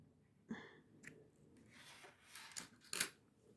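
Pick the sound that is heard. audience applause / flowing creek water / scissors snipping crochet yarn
scissors snipping crochet yarn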